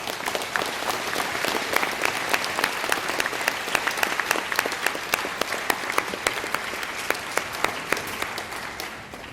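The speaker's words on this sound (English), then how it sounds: "Please join me in a round of applause." A graduation ceremony audience bursts into sustained applause, a dense wash of many hands clapping steadily for several seconds, filling the hall without any voices standing out.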